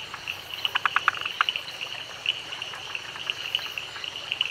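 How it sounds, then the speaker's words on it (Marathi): Frogs calling in a Western Ghats monsoon forest during the rainy season, a dense chorus of short repeated croaks and clicks, with a burst of rapid calls early on, over a steady insect-like hiss. "पावसाळ्यात बेडकांच्या आवाजामुळं जंगलात एक प्रकारचा जिवंतपणा येतो."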